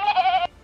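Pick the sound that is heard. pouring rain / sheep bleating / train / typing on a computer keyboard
sheep bleating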